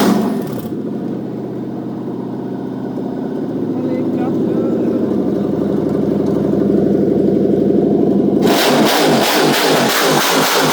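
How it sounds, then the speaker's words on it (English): A Toyota 3UZ V8 fitted to an N70 Hilux with a manual gearbox runs at a loud, steady idle close by, then revs sharply in pulsing bursts near the end, with occasional talk nearby. "Got a little bit of torque on the engine, yep, but she's a runner."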